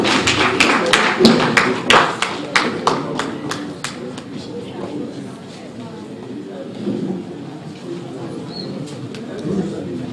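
Round of applause from an audience at a Lagos State Civil Service Commission career week event, with sharp irregular claps strong at first and thinning out over several seconds, then fading behind low crowd murmur and voices.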